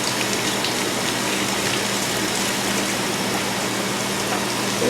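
Water gushes steadily from a garden hose through a water breaker nozzle while fertilizer is applied, a continuous, even, close hiss with no pauses or voices.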